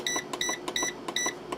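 An electric pressure cooker, lid locked on the airtight setting, gives a series of short, bright electronic beeps in quick succession as it is set to pressure cook, close and clear with no talk.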